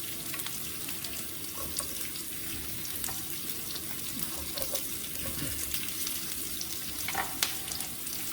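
Big chunks of onion frying in a pan, a soft continuous sizzle with faint crackles and occasional stirring clicks, quiet and close with no talking.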